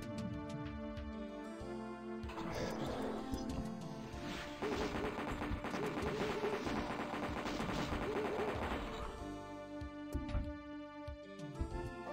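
Chaingunner enemies in a Doom mod set on Mars fire bursts of rapid gunshots over a musical soundtrack, dense overlapping fire in the middle section with single blasts near the end.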